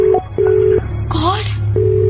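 Several short electronic phone keypad tones beep in quick succession, with a brief murmur of voice between them over a low background hum.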